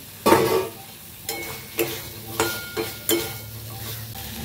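Potato pieces go into hot oil with cooked-down spice masala in a Bengali vegetarian kitchen, giving a loud opening sizzle followed by several sharp stirring scrapes and renewed bursts of frying, close up with no voices.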